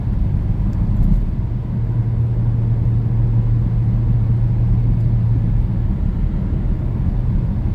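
A 2000 Audi A6 with a 4.2 engine drives along, a steady low rumble of engine and road noise heard from inside, loud and continuous without talk.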